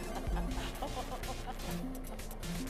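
Chickens cluck in short, repeated bursts in the Guacamelee video game, mixed with a steady game soundscape and a low thump near the start.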